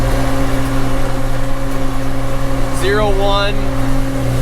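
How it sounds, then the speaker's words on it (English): A Hi-cycle 6000 sprayer drives through snow with a steady, close engine drone and a constant low hum, while a voice speaks briefly near the middle. "we're driving in snow, which is probably not this sprayer's favorite thing in the world to drive through"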